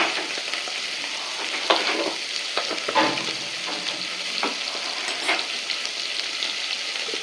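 Spices and vegetables for broccoli kurma sauté in a pan, a close, steady sizzle broken by scraping stirs and soft clatters of the spoon.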